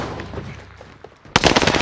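Call of Duty Warzone gunfire, a Milano 821 class, opens up suddenly as a loud rapid burst of automatic shots after a quieter stretch of game ambience. The close, sharp volley runs to the end.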